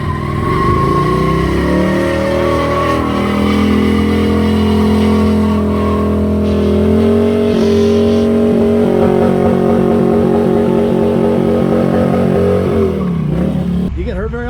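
A Harley-Davidson stunt motorcycle at a stunt riding show does a burnout, engine revving loudly and climbing in pitch while the rear tire screeches continuously, close and intense until it cuts off at the end.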